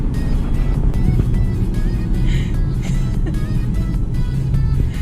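A Chevrolet Camaro SS fitted with a Pedal Commander throttle controller revs and pulls away hard, a loud, steady engine roar lasting throughout with no break.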